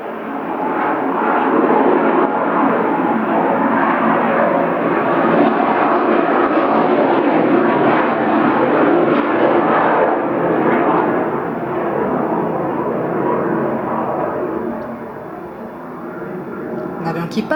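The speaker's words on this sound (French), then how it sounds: "L'avion qui passe." An airplane passes overhead with a loud, steady broadband roar that holds for most of the stretch before easing slightly near the end, with a voice talking over it.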